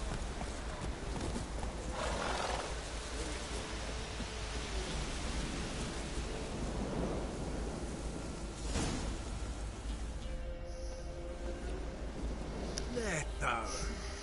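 Roach, a horse in a video game, gallops with a steady clip-clop of hooves over a constant wash of noise like rain, with snorts and movement sounds and a voice speaking now and then.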